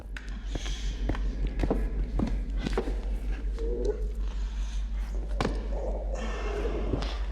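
Footsteps echo through a deep mine in Minecraft, a steady run of soft, repeated thuds with a hollow ring over a low ambient hum, moderately near and unaccompanied by talk.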